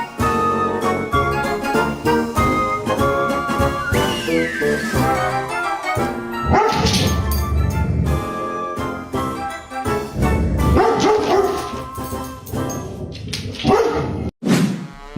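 A dog barks repeatedly in loud, close yaps and woofs mixed with whimpers and yips, the barking continuous and energetic with brief pauses, no talking.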